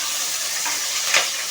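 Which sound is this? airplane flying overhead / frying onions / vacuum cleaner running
frying onions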